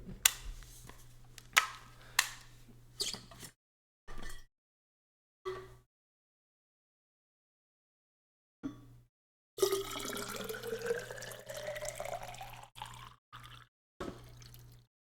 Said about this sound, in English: Let me fill up water real quick.